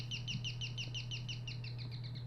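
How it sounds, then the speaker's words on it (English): A bird chirps from outside in the game Devotion, fairly loud, with a brisk repeating pattern of sharp chirps in steady rhythm, backed by a continuous low hum and a few faint knocks. "Is that a pet bird? Sounds like it's coming from outside."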